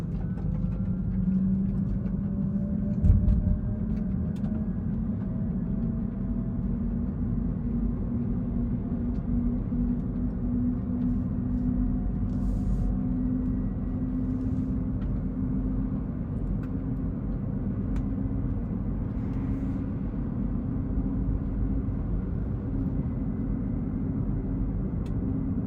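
A Rivian R1T electric pickup truck drives along, giving a steady low road rumble and a faint rising motor whine, with a brief knock early on.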